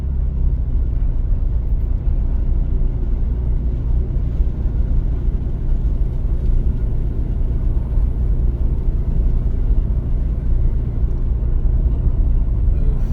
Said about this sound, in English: It's heavy traffic right now.